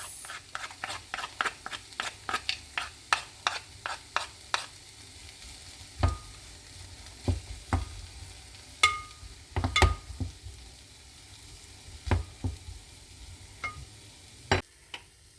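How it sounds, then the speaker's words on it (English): Okra (bhindi) curry cooking in a pan, with a soft sizzle under a series of sharp spoon scrapes and taps as it is stirred, quick at first and then sparser. "Let's stir it once more. And cook it for another 5 minutes."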